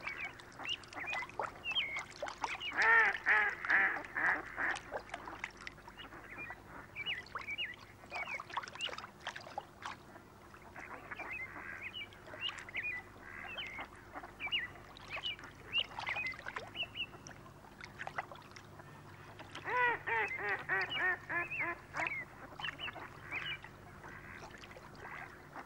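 Ducks on the Colorado River quack in bursts of raspy calls, busy at first, easing off in the middle, then picking up again near the end over a quiet background.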